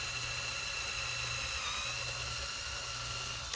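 A high-pitched drill whines steadily as it bores a hole in a BMW K1600 motorcycle's front fairing for speaker pods, close up, running continuously before a brief knock at the end.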